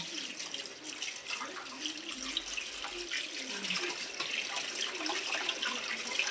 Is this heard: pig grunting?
no